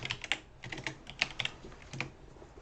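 Typing on a computer keyboard while laying out a CNC router design in CAD software: a few quiet, irregular keystrokes and clicks, some clustered, with no talk.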